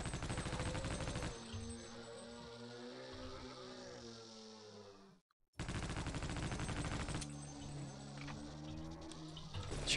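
Rapid gunfire from the video game Half-Life: Opposing Force rattles in dense bursts over a droning tonal backdrop, cutting out briefly midway before resuming, with no talking.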